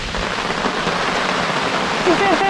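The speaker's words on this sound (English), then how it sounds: "we actually can sit here and enjoy the rain, stay dry" Steady rain falls close by at a campsite, heard from under a tarp canopy by a small camper, a dense, even hiss that continues throughout.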